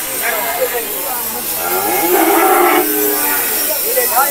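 A calf moos once in a drawn-out call at the traditional Lauhati cattle market in Bangladesh, heard over constant loud crowd murmur and market bustle.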